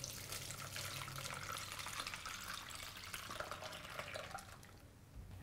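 Fresh garnet-red juice pours through a strainer, making a steady splashing trickle with a watery hiss that continues for several seconds before tapering slightly near the end, close and alone without speech.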